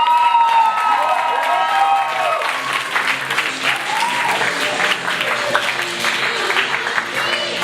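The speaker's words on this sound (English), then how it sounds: "Please give a huge applause for Angelo." A comedy-show crowd claps and cheers for comedian Angelo, a sustained, lively round of applause with whoops rising over it, loud and near throughout, with some tonal sounds and shouting mixed in.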